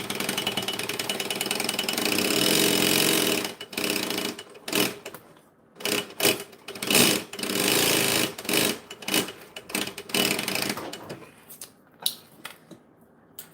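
A sewing machine runs loud and close in bursts, one long steady stretch and then a series of short stop-start runs with brief pauses between them.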